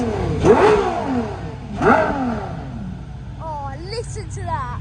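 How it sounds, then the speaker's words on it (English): Cars at a large supercar meet at Silverstone rev their engines hard, two sharp rising blasts followed by a third engine's lighter revving as it fades, with nearby voices and crowd murmur underneath. "Could you give me some revs, please?"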